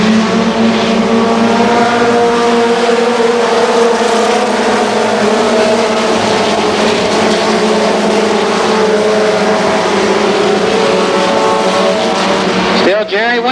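Mini stock race cars at Columbus Motor Speedway in 1990 roar past in a loud, sustained engine drone with shifting pitch, continuing unbroken before cutting off abruptly at the end.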